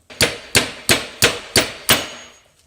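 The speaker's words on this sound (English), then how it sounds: "I'm willing to sacrifice a drill bit to knock that pin out." A hammer drives a sacrificed drill bit used as a punch to knock out a ring gear roll pin on a Dana 30 axle, six sharp metallic strikes in a steady rhythm, close and loud.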